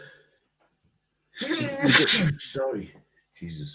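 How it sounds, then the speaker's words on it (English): A man lets out one loud, explosive sneeze close to the microphone, followed right after by his own short spoken remarks. "That was one beautiful sneeze"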